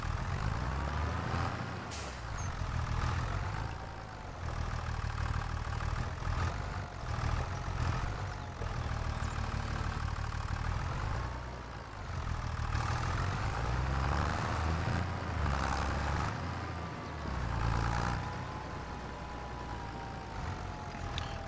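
A brand new tractor in the Back Roads County farming video game runs with a steady, moderately loud engine drone that swells and eases in slow waves over about twenty seconds, with no talking.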